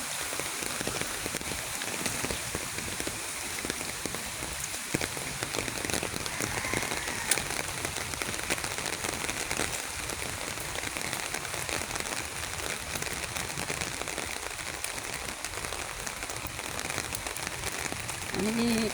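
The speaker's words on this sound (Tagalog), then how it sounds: "Kahapon pa ulan ng ulan." Heavy rain pours steadily outdoors in the Philippines during a flooding downpour, a dense, continuous hiss of drops drumming on surfaces, close and loud throughout without pause.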